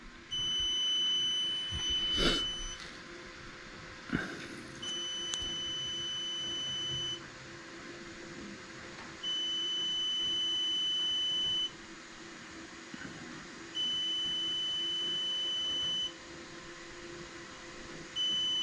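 A battery discharge unit beeps repeatedly at a steady high pitch, close and loud, in long evenly spaced tones with a few clicks and handling noises in between.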